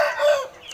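Free-range village chickens about two and a half months old cluck and call in a brief, close, fairly loud burst of rapid bird vocalizing, with no talk over it.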